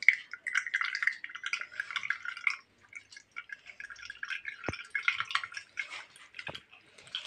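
A blended mint drink mixture is strained through a strainer into a small bowl, giving close, steady trickling and dripping with a few brief pauses and some sharper single drops, with no talking.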